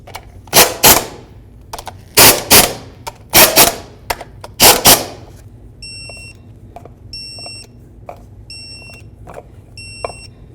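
Fan clutch mounting bolts on a 1992-2000 Chevy Tahoe are snugged up with a handheld tool in several short, loud mechanical bursts. A series of regular electronic beeps follows after a pause.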